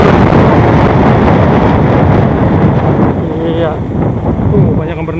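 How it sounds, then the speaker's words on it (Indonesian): Strong gusts of wind buffet the microphone outdoors at the Cipalias bathing spot in Padarincang, Serang, Banten, making loud, continuous low rumbling that eases slightly toward the end. "Waduh, kencang banget anginnya nih"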